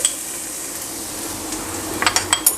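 Crushed garlic sizzles in a tablespoon of hot oil in a wok, a steady close hiss with a few sharp metallic clinks near the end, no talking.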